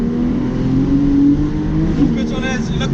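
A Porsche 911 991 Carrera S naturally aspirated flat-six engine drones loudly and steadily from inside the car, pitch shifting slightly as it revs, with someone talking over it.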